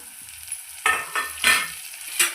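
Brain stir-frying in a pan with ginger garlic paste, coriander, curry leaves and mint: a steady low sizzle broken by four bright scraping, hissing bursts as the mixture is stirred, close and alone.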